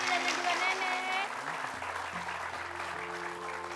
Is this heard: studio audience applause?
yes